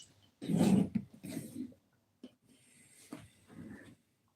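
Dogs in a house, close by, giving a few snorting, growling breaths and low huffs in short bursts separated by quiet gaps.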